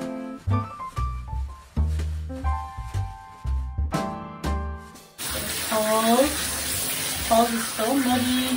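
Partway through, a bath sprayer switched to its bath setting starts a steady, close hiss of water wetting down a muddy dog, following a stretch of plucked, tonal sounds.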